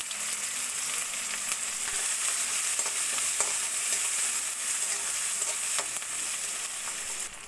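Chopped onion sizzles and fries in hot oil in a wok after a cumin tempering, with tomato going in next; a steady, loud, dense crackling hiss with faint stirring scrapes throughout, no voices.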